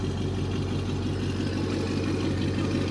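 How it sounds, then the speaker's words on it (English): A Roush-tuned car engine idles normally, giving a steady, low, even rumble with no revving, heard up close and alone. "you can hear it's idling normal again"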